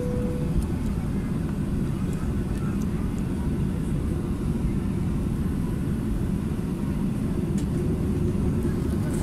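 Continuous low engine rumble of an airplane taxiing at Katowice Pyrzowice Airport, heard from inside the cabin, steady with no voices.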